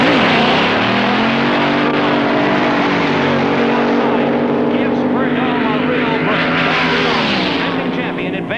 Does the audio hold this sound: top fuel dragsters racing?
yes